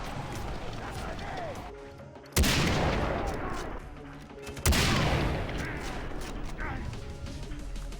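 Two loud, sharp bursts of gunfire from a Far Cry 3 game session on insanity mode, spaced a couple of seconds apart, over a steady bed of in-game ambience.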